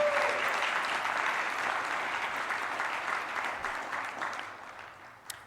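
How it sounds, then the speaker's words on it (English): Audience applause at a district address, dense clapping from a sizeable crowd holding steady, then thinning and fading toward the end with a final sharp sound. "please give them another round of applause"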